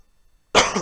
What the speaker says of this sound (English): Sorry, I'm coughing, guys.